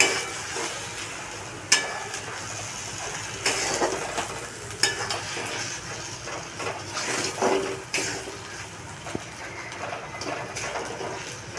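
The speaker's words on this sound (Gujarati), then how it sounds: "આ શેકાય એટલામાં આપણે 2 મિનિટ માટે આને શેકાવા દઈશું" Crushed corn roasting in a pan for crispy corn and potato appam: a soft, continuous sizzle with occasional stirring scrapes and light clicks of a utensil against the pan.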